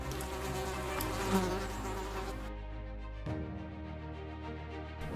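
Bees buzzing near a hedge in a garden, a steady droning hum that stays loud and continuous throughout, with no voices over it.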